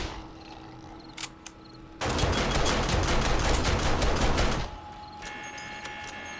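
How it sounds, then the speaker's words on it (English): An SMG auto turret fires in the video game 7 Days To Die during a horde defense at a base, a sustained burst of rapid automatic fire lasting a few seconds after a couple of faint clicks, moderately loud over quiet game ambience. "SMG auto turret seems to be doing well"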